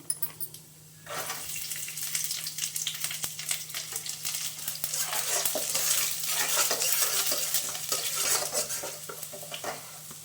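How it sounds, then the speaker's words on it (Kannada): Chana dal frying in oil in a pan as garlic is added and stirred, for a bitter gourd stir-fry, giving a steady crackling sizzle with stirring scrapes that swells and continues for several seconds, no talking. "ಕಡಲೆಬೇಳೆ ಆಯಿಲಲ್ಲಿ ಫ್ರೈ ಆಗಿದೆ ಬೆಳ್ಳುಳ್ಳಿ ಸೇರಿಸ್ಕೊತಾ ಇದ್ದೀನಿ"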